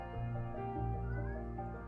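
An indoor house cat lets out a loud, drawn-out, wavering meow close by, sustained for about two seconds with a yowling, caterwaul-like quality and no talk over it.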